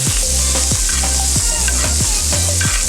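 Steak searing in a hot pan with melted butter, sizzling steadily and close while a spoon scrapes through the fat in regular basting strokes about every half second.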